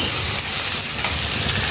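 Fried potatoes hit a pan of frying rice in an Assamese home kitchen, giving a loud, continuous broadband sizzle with no pauses or talk.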